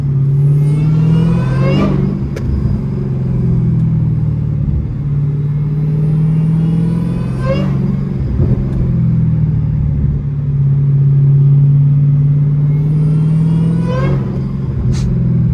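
Dodge Hellcat running with its hood off, a steady supercharger whine over a deep exhaust burble, with sharp revs near 2, 7.5 and 14.5 seconds; loud and close, no talking.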